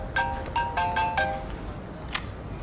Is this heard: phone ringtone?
yes